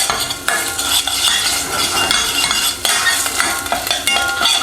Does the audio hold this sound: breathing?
no